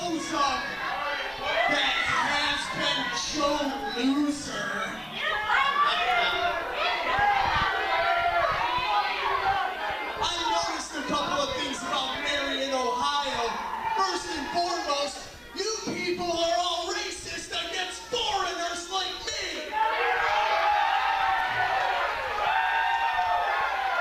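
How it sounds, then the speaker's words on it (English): Wrestling crowd chanting at a live match, a dense wall of many voices that stays loud and steady with brief dips, with announcers talking over it. "The crowd chanting"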